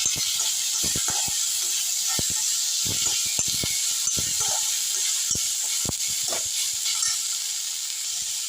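Tomato and curry leaves sauté over low heat in a pan, giving a steady bright hiss of frying oil with frequent sharp spatters and pops scattered throughout, close-up and without speech.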